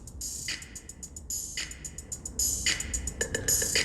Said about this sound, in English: Like a good, strong drum rhythm that pushes the pulse of a song.